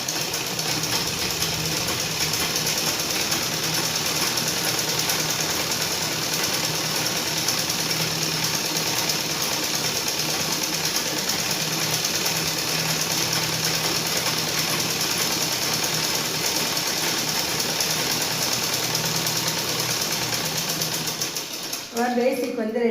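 A sewing machine runs steadily throughout, stitching a folded fabric hem with a continuous fast mechanical whir at constant loudness, stopping just before the end.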